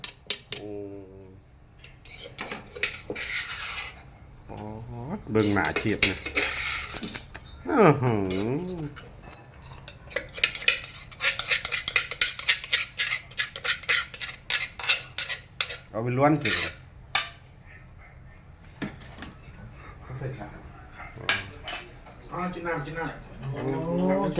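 Garlic pounded in a mortar for duck larb, sharp metallic and stony clinks and knocks in bursts, close and fairly loud, with people talking over and between the strikes.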